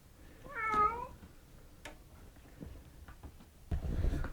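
A stray cat meows once up close in a rural setting, a clear drawn-out cry followed by faint rustling and handling noises.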